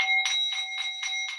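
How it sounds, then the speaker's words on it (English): A hand bell rung for an Easter vigil, five evenly spaced bright rings in quick succession, close and clear with a sustained metallic tone between strikes and no talking. "we will ring our bells together"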